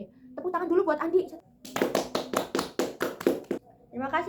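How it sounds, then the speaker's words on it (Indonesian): A classroom of pupils gives a short burst of rhythmic, unison clapping for a classmate named Andi, about ten sharp claps close by. A teacher's voice speaks just before and resumes right after. "Tepuk tangan dulu buat Andi."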